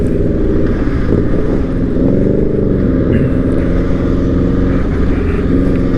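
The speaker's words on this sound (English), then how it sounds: "the road noise is crazy" Loud, steady motorcycle engine drone mixed with heavy road and wind rumble, constant throughout, close and unbroken by talk.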